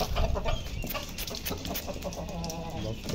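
Hens on a farm clucking in short, uneven bursts amid shuffling and movement, fairly close but quiet, with a little background noise.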